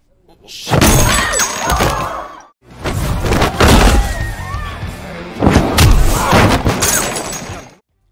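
Heavy thuds, smacks and crashing impacts from a fistfight in a film, coming in three dense bursts separated by short pauses, loud and close.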